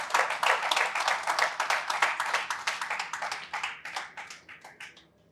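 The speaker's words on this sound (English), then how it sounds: "Please, a round of applause." Applause from a business event audience celebrating Nigeria's top companies, a burst of many hands clapping in quick rhythmic claps that thins out and fades to silence over about five seconds.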